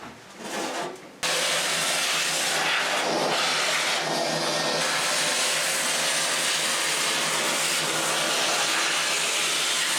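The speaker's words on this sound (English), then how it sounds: "I'll get the vacuum, run the vacuum through this" Vacuum cleaner switched on and run over freshly repaired shower tile work, a loud steady roaring whoosh starting after a second of quieter scraping and continuing without a break.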